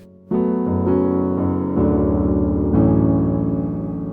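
A piano plays a short passage from a song, a series of sustained chords struck one after another, close and clear with no talking.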